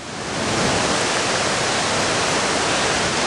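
Falling water thunders at a trailside waterfall in Golden Ears Park, a loud, even wash of white-noise roar that builds over the first half second and then stays constant, with no one speaking.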